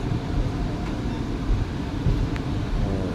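Kottayam–Nilambur Express rumbling slowly around a bend into Irinjalakuda station in the early morning, a steady low rail rumble with faint squeals, close and continuous, no voices.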